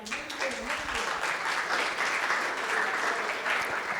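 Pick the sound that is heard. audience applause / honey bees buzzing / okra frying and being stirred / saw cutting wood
audience applause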